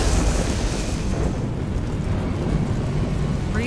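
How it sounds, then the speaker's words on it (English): Explosions on a burning ship in Mass Effect 2, a dense roaring rumble with heavy low-end booms, loud and continuous. "Hence all the explosions"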